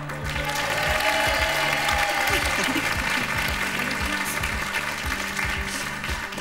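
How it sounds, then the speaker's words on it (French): Sustained applause from a TV studio audience on a Saturday-afternoon French entertainment show, steady dense clapping filling the whole stretch, with a presenter's voice faintly underneath. "Applaudissez, applaudissez vraiment toutes celles et tous ceux qui, en fin d'après-midi de samedi, sont là pour vous divertir"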